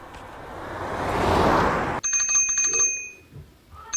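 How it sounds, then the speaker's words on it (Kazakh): Bicycle bell rings in quick repeated dings after two seconds of broad rushing noise, clear and close, with its bright tone trailing off toward the end. "Велосипед,"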